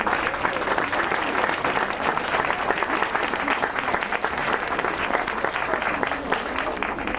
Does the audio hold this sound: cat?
no